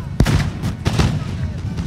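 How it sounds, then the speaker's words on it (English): Musket volleys crack out in a forest battle in a Napoleonic-era 1805 European Campaign strategy game, with loud overlapping bursts and rumbling booms in quick succession. "A lot of volley fire going on in the forest of this region."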